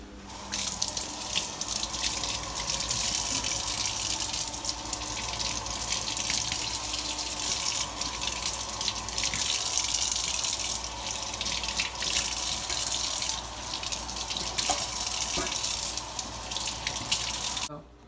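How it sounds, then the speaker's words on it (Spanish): Tap water runs steadily into a kitchen sink while vegetables are rinsed under it, a continuous close splashing rush with faint background noise. "Primero lavo los vegetales."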